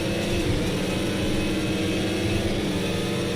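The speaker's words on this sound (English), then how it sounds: "one thing I have never been a fan of with Porsches is their engine sound." A Porsche engine in a video game drones and revs steadily at close range, a dense continuous engine roar with no talk over it.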